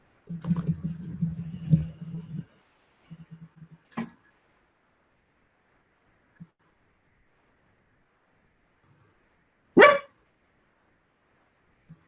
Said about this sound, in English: I do apologize for my doggy in the background.